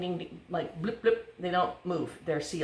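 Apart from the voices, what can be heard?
No distinct noise like a dog, phone or traffic.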